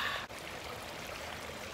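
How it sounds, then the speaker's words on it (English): Water from a bubbler fountain rock cascades over stones into a small pondless waterfall, a steady close splashing rush with no voices. "water comes up through a tube and kind of just cascades over this rock into the waterfall"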